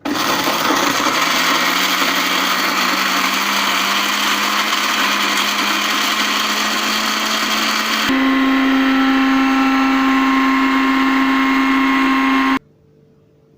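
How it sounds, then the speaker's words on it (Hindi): An electric grinder grinds whole spices for Sindhi garam masala, with a loud steady motor whine and rattling spice. The pitch shifts partway through, and the roar stops abruptly near the end. "अब ये सारी चीज़ें जो हैं इस ग्राइंडर में जाएंगी और इनको हम पीस लेंगे।"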